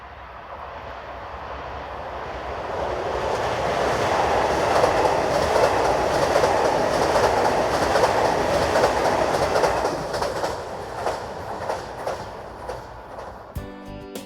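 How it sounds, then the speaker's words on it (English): Pendolino train set 680-005 rolls past on a Slovak line near the Tatra mountains, a broad rushing roar that swells over several seconds, holds steady, then fades with rhythmic wheel clatter toward the end. "Pendolino set number 680-005 returns to Prague with the 1459 from Košice."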